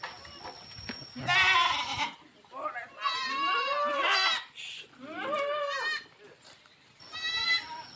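Several goats bleating loudly in overlapping, wavering calls, one after another, amid a noisy crowd of animals close by as they are unloaded from a ship.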